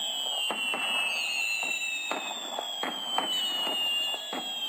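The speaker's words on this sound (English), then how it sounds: "There's gonna be fireworks in 5 seconds." Fireworks pop and crackle in a rapid irregular series of sharp bursts, with whistling rising and falling tones running throughout and a steady noisy background.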